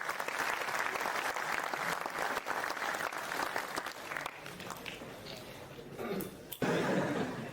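Sustained audience applause at a mushaira poetry gathering at IIT Jammu, dense clapping filling the hall for several seconds with a few chuckles mixed in, tapering briefly before a final loud burst.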